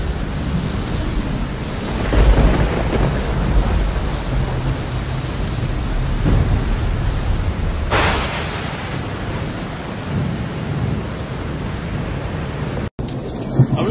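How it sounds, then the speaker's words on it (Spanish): A thunderstorm in Arizona with heavy rain pours down steadily and loudly, while deep thunder rumbles roll through and a sharper crack of thunder breaks in near the end. "En Arizona, una increíble tormenta eléctrica paralizó las operaciones en los aeropuertos."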